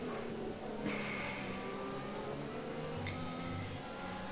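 Formula 1 car engine at full throttle in a racing video game, a steady high-pitched drone with a sharp gear-change jump near the start and another brief shift toward the end, loud and continuous with no talk.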